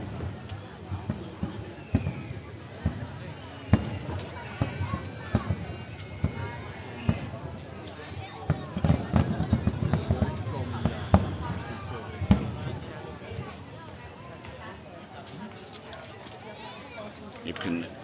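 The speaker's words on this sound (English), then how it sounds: "folks that you're watching the live stream can hear the fireworks but can't see them" Fireworks at the San Lorenzo festival in Altea go off as scattered bursts and sharp pops, some close and some distant, under ongoing conversation among onlookers.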